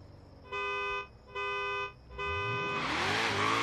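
A Ford Mustang GT350R V8 in Forza Horizon 3 revs in three sustained bursts with brief pauses between, then launches into a rising, roaring acceleration, loud and close.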